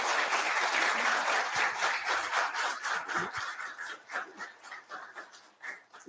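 An audience at a lecture on flood forecasts for river basins claps for a professor, a dense, steady applause that slowly thins into scattered claps toward the end.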